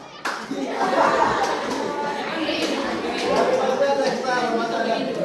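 A classroom of pupils claps along in a rhythmic group clapping game, bursts of hand claps mixed with chatter and light laughter, fairly close and loud.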